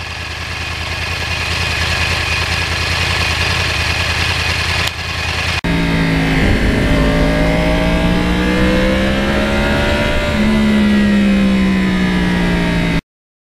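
A 2009 Yamaha R1 crossplane with 32,000 miles idles steadily, then after a short break its engine revs up loudly, the pitch sweeping up and down in a couple of strong, close blips.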